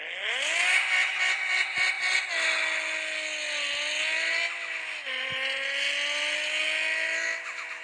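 A car engine held at high revs, a loud sustained whining drone with stepped pitch changes as the throttle rises and dips, close and steady without talk.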